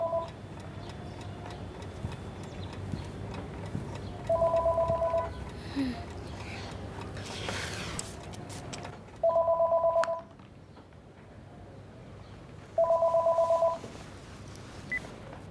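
A telephone rings in three separate bursts, each about a second long, in a quiet room in an Iranian drama. Faint room sound fills the gaps between rings.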